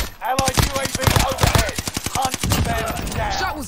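Rapid bursts of video game gunfire, loud and close, with dense automatic shots fired in quick clusters and a few single cracks, continuing for several seconds in a multiplayer match.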